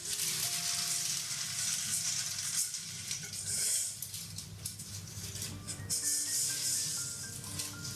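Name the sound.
dry beans poured into pie crust in pan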